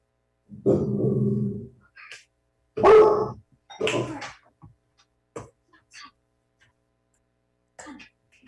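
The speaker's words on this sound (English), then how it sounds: "somebody's dog barked" A dog barks somewhere during a budget committee meeting: a few short, rough bursts come in two clusters with quiet gaps between them, fairly close and loud, and no speech over them.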